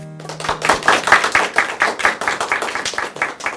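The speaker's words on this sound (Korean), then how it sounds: "박수가 참 인색하시네요." A lecture audience claps for a speaker in a loud, uneven patter of many hands that rises and then thins out, with no talking over it.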